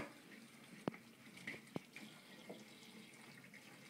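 Water is poured into a frying pan, a faint, steady hissing trickle with a couple of sharp clicks in a quiet kitchen.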